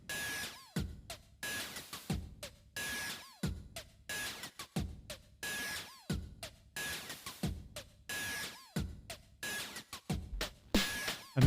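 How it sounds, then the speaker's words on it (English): A drum track from a modular synthesizer, with punchy electronic kicks and snappy noise hits in a steady repeating loop with pitch-swept tones, loud and close, no voices. "I have one drum track coming from the Modular,"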